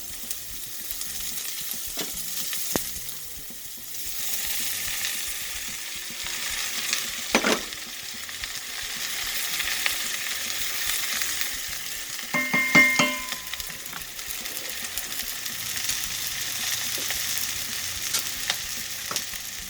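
Baby eggplant and onion fry in a pan, giving a long steady sizzle broken by occasional stirring scrapes and a few brief metallic clinks, close and even, with no voices heard.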